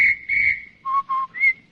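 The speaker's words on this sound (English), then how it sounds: "you hear a policeman's whistle that goes like this" A policeman's whistle sounds in an old radio comedy: a short run of clear, piercing whistle blasts, starting high, dropping to two lower notes, then rising again, loud and close with no talking.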